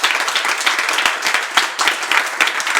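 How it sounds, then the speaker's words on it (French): Brief, close applause from a church audience, with dense overlapping claps and several sharp individual hand strikes. "On peut applaudir très fort les interventions."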